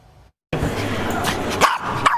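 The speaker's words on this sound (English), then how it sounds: "It's all happy barks and wagging tails at Petfinity Indoor Dog Park" Dogs bark and yip at an indoor dog park in winter, several short barks close by over a busy, echoing room with voices in the background.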